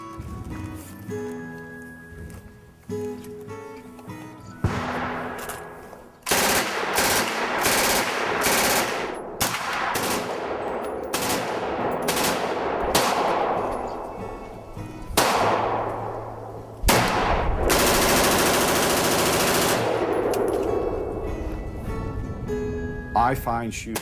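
Loud, sharp gunshots fire at a shooting range in rapid bursts and single cracks, some echoing, with a faint voice underneath between volleys.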